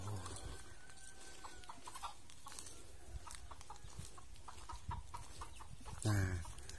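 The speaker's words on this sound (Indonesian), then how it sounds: "Ayam-ayam berkeliaran di sini ya." Free-roaming chickens cluck and a rooster calls in a Javanese village lane, intermittent bird sounds over steady outdoor background noise, with one louder burst of calling near the end.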